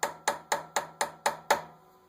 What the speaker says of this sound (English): I take a hammer and lightly tap